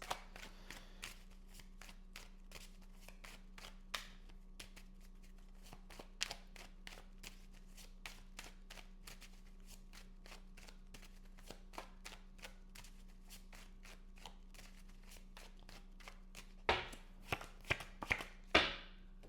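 Tarot cards are shuffled over and over in quick, soft riffles, close and quiet, with a few louder slaps and taps near the end.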